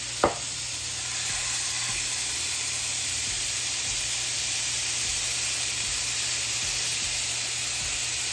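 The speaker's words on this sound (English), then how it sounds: "So we're just gonna lay both of our turkey burgers on there." Turkey burgers laid on a small grill sizzle steadily, a loud, even hiss of frying that follows a brief clunk at the start and continues unbroken.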